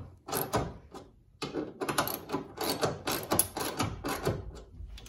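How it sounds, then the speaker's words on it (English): A wrench tightens a hex head fastener on a tie-down anchor of a Ford Maverick XL, giving a close series of irregular metallic clicks and ratcheting scrapes in short bursts. "So I'm just gonna use a wrench here and wrench those tight."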